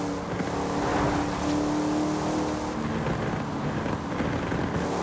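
Car engine in Forza Horizon 5 from the Fast and the Furious car pack, a steady loud drone that holds near constant pitch with slight revving, no talk.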